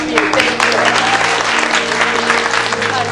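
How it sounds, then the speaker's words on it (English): Loud, continuous applause fills the room at a film festival recap event, steady clapping from many people close by, with a faint voice and low tonal hum underneath. "Huge round of applause for you."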